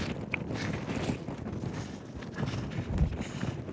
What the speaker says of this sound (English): Wind's blowing us sideways.